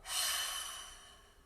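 A slow, steady breath out during a guided breathing exercise, a soft airy exhale that swells quickly and then fades gradually over about a second and a half, close and quiet with no talking.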